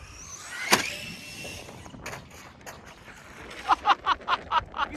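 An Arrma Senton BLX 3s RC car attempts a backflip: a sharp impact clack, then a high electric motor whine in quick rhythmic bursts, faint and at moderate distance over outdoor background noise.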